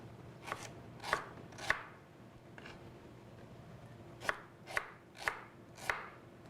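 A knife chops onion for a spice paste on a cutting board in a home kitchen, sharp close strikes in two bursts of three and four with a short pause between, no talk.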